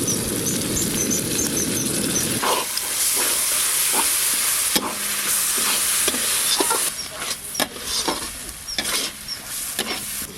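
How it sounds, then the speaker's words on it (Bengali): Ground spice paste with dried chilli and yogurt fried in a pan for a fish curry, a loud dense sizzle at first that settles into quieter frying broken by frequent sharp stirring scrapes and knocks, up close. "মশলাটা খুব ভালো কষা হয়েছে, মাংসের মতো কষা হয়েছে।"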